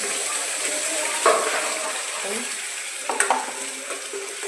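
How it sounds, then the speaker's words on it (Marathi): A wet ground masala paste with coriander powder and black masala sizzles in hot oil close by while a spoon stirs it, its soft frying hiss broken by a few sharp scraping knocks. "आता हे वाटण आहे ना तेल सुटत तोपर्यंत मस्त परतून घेते"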